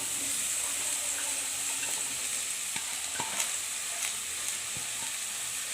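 Thinly sliced mushrooms fry in hot oil for mushroom rice, a steady close sizzle with a few scattered sharp clicks of a utensil against the pan, no talking.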